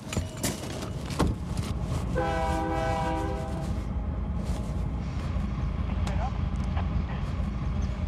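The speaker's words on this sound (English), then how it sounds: "This is the train that's coming in from Nogales right now." Freight train arriving from Nogales at a border rail inspection, a loud steady rumble of rolling cars with a sustained horn blast early on; a voice talks over it.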